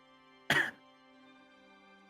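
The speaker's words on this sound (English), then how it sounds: "Diegetic cough." A single short cough, close and fairly loud, against a quiet steady hum.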